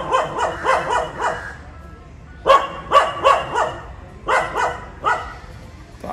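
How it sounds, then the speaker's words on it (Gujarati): A dog barks loudly and close by in short clustered bursts of three or four barks, with brief pauses between each run. "ભસી લે તું ભસી લે પતાય તારું પહેલાં"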